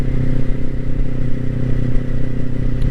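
A Kawasaki Ninja 400 motorcycle cruises at steady speed, its engine droning loud and close under rushing wind buffeting, with no voices.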